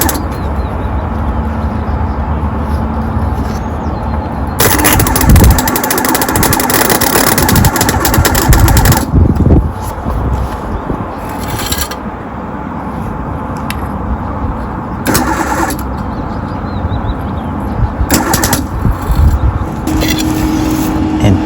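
An old electric welder, unused for years, works on a motor mount for an electric motor in a sailboat, giving loud harsh crackling bursts of several seconds each, separated by a steady lower hum.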